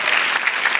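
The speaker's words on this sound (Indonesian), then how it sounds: "Boleh tepuk tangan dulu buat kita semua biar semangat." Audience at a stand-up comedy show bursts into dense, even applause, a short, loud, close wash of many hands clapping with no talk over it.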